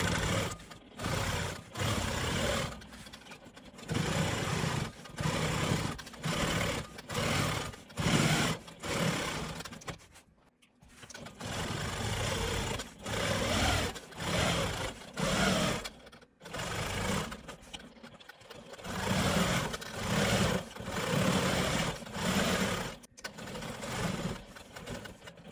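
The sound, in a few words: Quilt Maker Pro 20 quilting machine stitching around block perimeter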